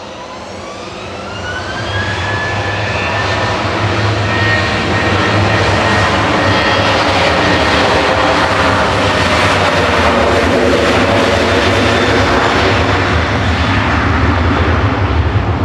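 Jet airliner departing Manchester Airport, engine roar building over the first two seconds then holding loud and steady, with whining engine tones and deep rumble.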